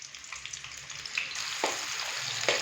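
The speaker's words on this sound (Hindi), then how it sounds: "प्याज को लाइट ब्राउन होने तक फ्राई करेंगे।" Finely chopped onions frying in ghee in a pot for pulao, giving a steady close sizzling hiss with a few soft stirring clinks, no talking.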